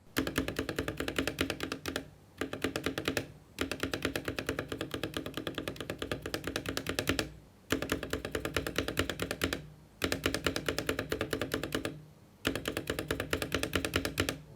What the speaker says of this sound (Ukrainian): І ось звук пробілу без шумки і з нею.